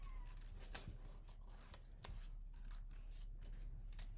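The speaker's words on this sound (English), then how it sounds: "So I will just go ahead and cut this out." Scissors cut out a paper Christmas tree shape, a close, steady run of crisp snips and paper rustle with a few sharper closes.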